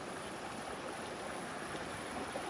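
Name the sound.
mountain river flowing over a boulder riverbed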